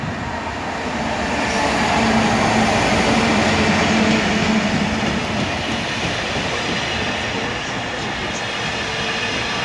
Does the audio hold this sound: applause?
no